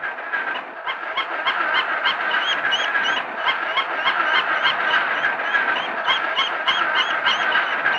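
A lone duckling cries out in distress with rapid, repeated high-pitched peeps, loud and close, the calls coming in a steady insistent stream without a break.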